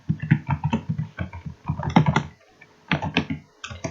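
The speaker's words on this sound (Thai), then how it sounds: "พิมพ์สูตร" Rapid keystrokes on a computer keyboard as a formula is entered into a spreadsheet, clattering in quick bursts with short pauses between runs, close and clear with no voice.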